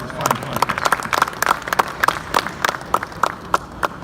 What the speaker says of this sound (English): join me in a round of applause for the employees of Terrapin and the people putting on this fine conference.